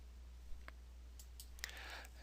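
Computer mouse clicks during an Oracle Linux 7 installation, a few quiet, sharp single clicks spaced apart over a steady low hum.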